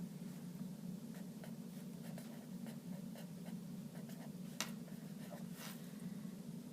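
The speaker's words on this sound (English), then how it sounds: "I want you to write day 115 at the top of your paper" A pencil scratches on paper in short, quiet strokes over a low steady hum, with a couple of sharper taps standing out; faint and close.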